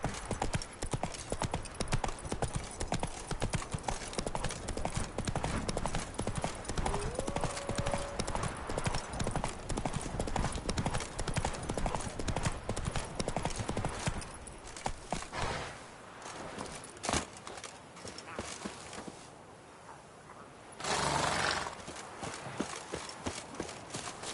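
Roach the horse in The Witcher 3, hooves clip-clopping at a steady, close trot for most of the stretch, then slowing and fading before a brief rustle and a return of the hoofbeats.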